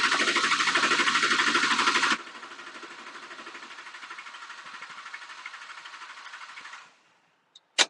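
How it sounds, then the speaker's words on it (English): A 2004.5 LLY Duramax diesel engine cranks without starting: a loud rhythmic starter churn for about two seconds drops to a quieter, steady cranking that keeps going until it stops, followed by a couple of sharp clicks. "All right, cranking."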